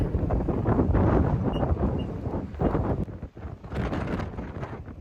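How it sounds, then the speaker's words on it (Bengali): Strong gusting wind buffets the microphone on a swaying suspension bridge in New Zealand's Hooker Valley near Mt Cook, in loud, uneven rumbling bursts, rising and easing with brief lulls between gusts. "ব্রিজের ওপরে এত হাওয়া দিচ্ছে যে পুরো ব্রিজটা দুলছে"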